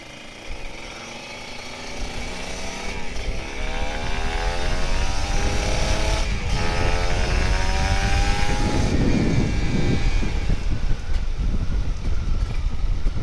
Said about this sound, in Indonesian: Nih gue manasin dulu biar super keep ya kebuka. Ya ginilah nasib anak dua tak.